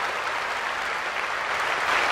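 Applause sound effect played from a phone app: a dense, steady wash of clapping that stays loud and unbroken for the whole stretch, with no voices on top.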